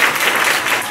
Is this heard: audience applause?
yes